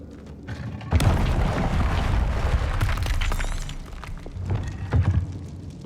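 A fire spell cast in Hogwarts Legacy bursts in with a loud whooshing blast, followed by several heavy booming, crackling impacts over a sustained roar of game effects, with a second burst near the end.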